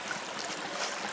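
A small creek flows beside a low-lying camp, giving a steady, faint, broadband wash of running water with no distinct splashes, unbroken throughout.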